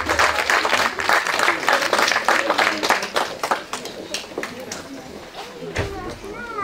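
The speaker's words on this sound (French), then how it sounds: "On applaudit encore plus fort." A crowd at an evening gathering applauds loudly in a dense, sustained wash of clapping, with voices mixed in beneath it, before the applause thins out toward the end.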